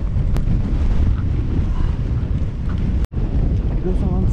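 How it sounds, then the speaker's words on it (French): Strong headwind buffeting the microphone during an ultra-distance cycling ride, with a constant low roar and rumbling gusts, loud and unbroken, with a brief dropout near the end. "Le vent en pleine face."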